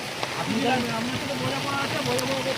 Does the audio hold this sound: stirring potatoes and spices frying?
no